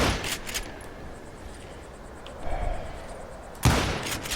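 Gunfire in the western video game Call of Juarez: Gunslinger, a few sharp shots early, quieter stretch, then a loud close blast near the end.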